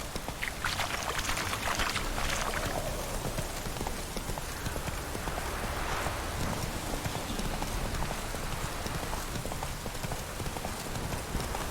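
Roach, the horse in The Witcher III, gallops with a steady clip-clop of hooves under a constant rain-like wash of ambient noise.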